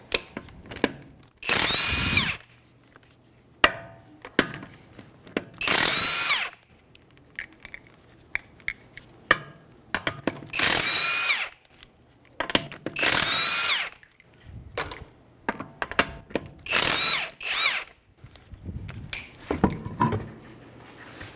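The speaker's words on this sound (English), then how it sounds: "With a 21mm socket, we're going to go ahead and take our tire off." A power tool with a 21mm socket spins the wheel nuts off a 2015 Hyundai Sonata, heard as several loud, separate whirring bursts of a second or two each, with quiet pauses and small clanks between them.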